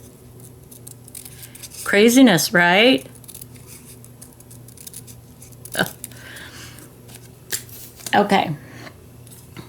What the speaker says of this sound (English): I'm working with scissors and not my rotary cutter.